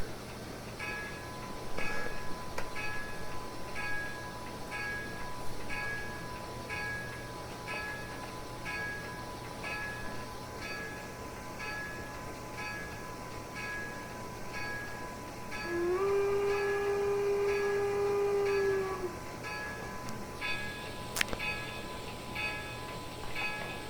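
Steam locomotive whistle on a CPRR 4-6-0 in Train Simulator Classic, sounding once clearly for about three seconds over a steady rumble of the engine and periodic mechanical chuffing, with a faint tone line throughout.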